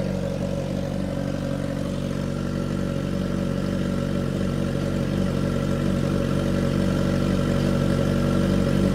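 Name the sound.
Kawasaki Z H2 / Suzuki GSX-S motorcycle engine idling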